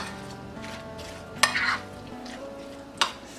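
A spoon stirs a bowl of Russian vegetable salad dressed with mayonnaise, giving two sharp clinks against the bowl, one near the start and one near the end, over steady background music.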